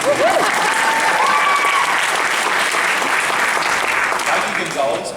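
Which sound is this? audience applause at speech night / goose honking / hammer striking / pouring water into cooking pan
audience applause at speech night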